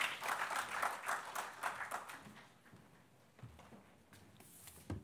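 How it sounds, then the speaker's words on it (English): An audience at an agriculture panel discussion breaks into applause, loud at first and then thinning into scattered claps before fading out. "have a round of applause for him?"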